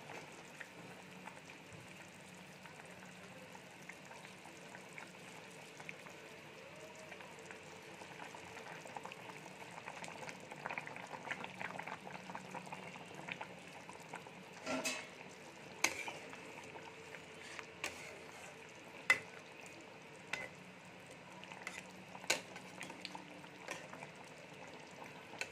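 Soybean dumplings simmer in a boiling potato curry, a quiet continuous bubbling broken by scattered light clicks and scrapes of stirring that grow more frequent later on.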